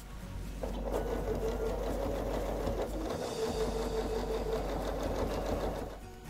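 A domestic sewing machine stitches a 0.5 cm seam in fabric for a yoga bag, a close, even mechanical whir that starts after a brief pause and runs steadily for about five seconds before easing off.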